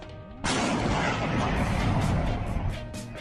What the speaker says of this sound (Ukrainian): Обломом завершились випробування цього конструктора, який зробив пушку з цистерни.